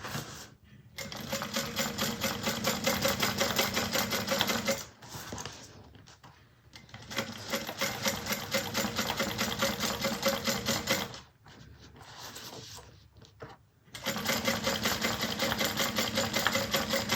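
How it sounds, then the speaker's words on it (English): A sewing machine top stitches an eighth of an inch from the edge through the thick base of a purple fabric bag, running in three long steady bursts with short pauses between them. "we're going to top stitch through the base"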